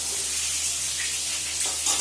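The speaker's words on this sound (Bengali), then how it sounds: "এখানে ভাজছি এই যে মাছ ভাজা" Fish frying in a pan in a home kitchen, a steady close hiss and sizzle of hot oil throughout with light crackles, no talk.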